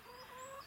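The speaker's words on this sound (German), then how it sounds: "darf ich vorstellen, das ist mein Huhn" A hen with a paralysed leg gives a brief, soft run of clucking, a short quiet burst of a few tonal clucks, heard alone without speech.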